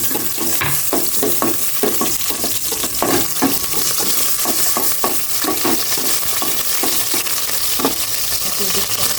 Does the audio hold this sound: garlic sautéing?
yes